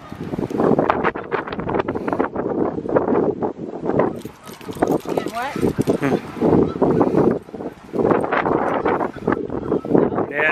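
Wind buffets the microphone in gusts beneath nearly continuous talking, giving a rough, blustery rumble throughout, outdoors in drizzle.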